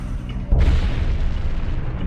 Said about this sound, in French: C'était une explosion vraiment puissante et étonnante.